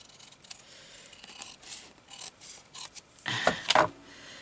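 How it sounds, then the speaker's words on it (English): Scissors trimming fabric for a journal craft, a series of soft close snips and rubbing, ending in a couple of louder cuts. "Trim it right off there properly."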